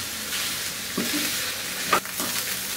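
Minced meat and onion sizzle steadily in a pan over medium-high heat, with a spatula scraping and stirring through them in a few distinct strokes; close and continuous, no talking.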